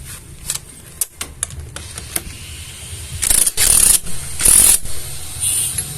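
Tightening the clutch nut on a Jupiter Z motorcycle, a series of sharp ratchet clicks followed by longer bursts of loud ratcheting, close up with no talk.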